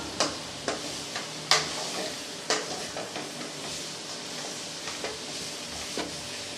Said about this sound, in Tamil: இந்த மசாலாவில் ஒரு ஒரு நிமிஷத்துக்கு நல்லா காயை நல்லா வதக்கி விட்டுறலாம்